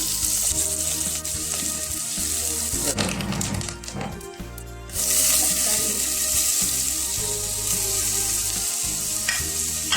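Garlic and neem leaves frying in oil in a clay pot, giving a steady loud sizzle with scraping stirs, briefly quieting partway through before the sizzling returns.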